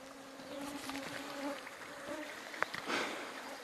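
A swarm of mosquitoes hums steadily around a canoe outdoors, a faint, continuous high buzz with soft clicks and a brief rustle near the end.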